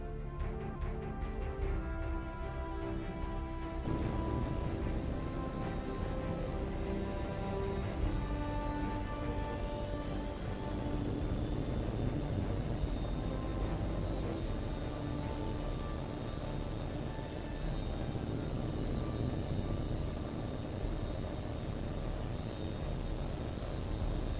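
A fighter jet in H.A.W.X. 2 roars steadily through takeoff, its turbine whine sliding upward and holding at a high pitch over a heavy, constant rumble, loud and close throughout.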